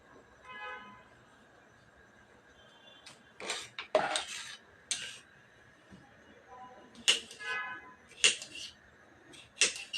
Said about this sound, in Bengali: ঠিক একটু আলু কেটে নিই।